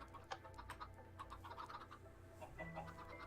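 Minecraft chickens on a chicken farm, several soft clucks and small squawks scattered irregularly over a quiet background, faint and close with a few sharper chirps between them.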